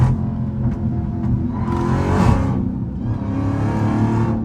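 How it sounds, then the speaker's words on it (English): Loud, continuous exhaust roar from a Dodge Hellcat under way with its rear seats removed, the engine note swelling in two strong surges as it revs and accelerates, with no talking. "Y'all probably hear a lot of exhaust because I got my rear seats out"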